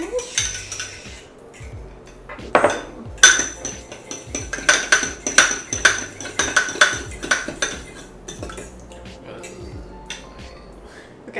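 Batter for chocolate chip banana bread being beaten in a bowl, a busy run of close clinks and scrapes of utensil against the dish, loudest through the middle and fading toward the end, with no talk over it.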